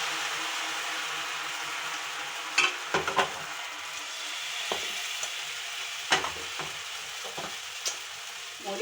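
Onion dosa batter sizzles on a hot pan with a steady soft hiss, broken by a few light metallic clinks and scrapes. No one speaks.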